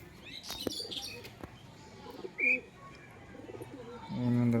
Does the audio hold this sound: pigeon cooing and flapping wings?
yes